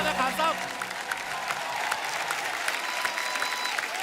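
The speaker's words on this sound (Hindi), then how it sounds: "जोरदार तालियां खान साहब के लिए" A studio audience at a comedy talk show claps in loud, dense applause, with a voice speaking over the clapping.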